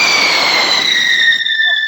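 A lit backyard firework at a neighborhood July 4th celebration whistles loudly with a steady, piercing high-pitched shriek over crackling rushing noise for about two seconds, close by, with no talking.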